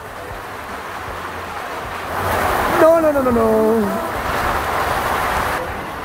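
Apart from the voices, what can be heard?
heavy rain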